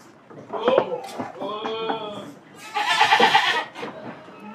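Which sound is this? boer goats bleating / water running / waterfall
boer goats bleating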